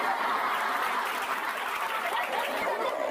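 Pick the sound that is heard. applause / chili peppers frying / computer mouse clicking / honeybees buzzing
applause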